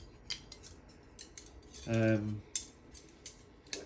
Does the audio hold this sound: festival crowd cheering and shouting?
no